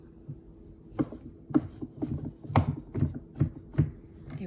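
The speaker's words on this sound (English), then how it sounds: "I wanna cut them up a little bit in smaller little bite-sized pieces" A knife chops leftover curry chicken into bite-sized pieces on a cutting board, with about a dozen sharp, close knocks in an uneven rhythm and no talking.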